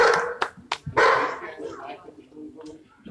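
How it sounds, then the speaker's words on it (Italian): Dogs bark in short, sharp bursts near the start during an outdoor community gathering in Sassetta, then a person's voice takes over and continues at moderate level with soft background noise. "Anche la presenza dei cani."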